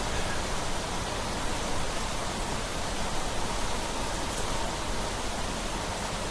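Steady rain falling in a video game, a continuous even hiss of broadband noise with no breaks, moderately loud and alone without any voices.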